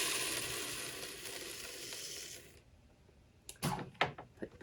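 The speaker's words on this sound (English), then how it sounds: "So just pour it into the bowl or into the cup of your blender" Wheat kernels pour into a blender cup in a continuous rattling, hissing stream for a couple of seconds, followed by a few separate knocks and clunks nearby.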